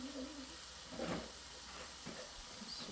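Tofu fries in a pan with a steady, soft sizzle and a faint hiss, punctuated by a few light stirring scrapes.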